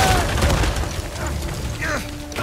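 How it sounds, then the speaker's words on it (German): Explosions rock a battle in the video game Uncharted 4, a heavy booming blast and rumbling debris up front, with crackling bursts and mechanical clatter trailing off across the scene. "Vor deinem Gesicht explodiert alles"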